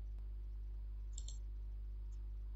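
A single quick double click of a computer mouse sounds faintly near the middle, set against a steady low electrical hum.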